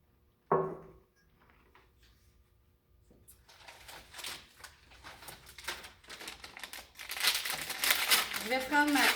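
Sterile dressing packaging is opened with forceps, giving close crinkling and tearing rustles that build and grow louder toward the end, with a voice speaking at moments.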